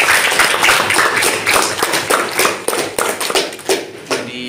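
Classroom applause from students during a lesson, dense clapping throughout that thins into scattered individual claps toward the end, with a little voice mixed in.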